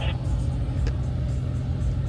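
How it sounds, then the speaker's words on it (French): Car engines idle at a cruising meet-up, a steady low rumble that fills the scene without any sharp revving, while faint voices murmur in the background. "tout le monde monte dans sa voiture, démarre son moteur"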